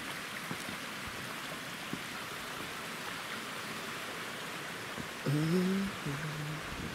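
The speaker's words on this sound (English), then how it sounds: "It's waterfall down there. There's a stream here as well, going down to the river." A stream and waterfall rush steadily through an early-spring zoo landscape, a broad even wash of flowing water, with a brief tonal sound rising near the end.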